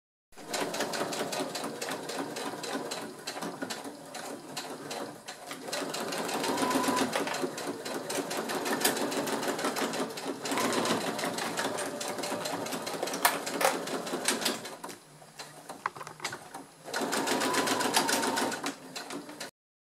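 Sewing machine running a straight stitch through plastic with a Teflon presser foot: steady rapid mechanical clatter in several long runs separated by brief pauses, close and clear.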